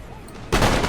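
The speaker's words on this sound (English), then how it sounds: "I'm really not the biggest fan of artillery, especially howitzers, because they do really mess up your line." Artillery howitzers fire in the Napoleon Total War battle game, a single loud burst that cuts in abruptly after a short quiet stretch of ambient battle noise.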